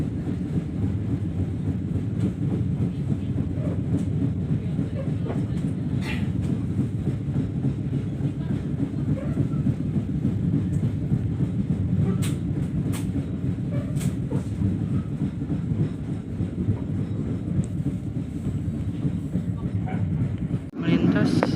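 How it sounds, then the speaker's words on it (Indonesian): A container freight train rolls past Jatinegara station in Jakarta, heard from aboard a passenger train as a steady, loud rumble of wheels and rail noise with occasional sharp clanks, under a voice talking. "di sebelah sana ada kereta api kontainer ya, angkutan peti kemas"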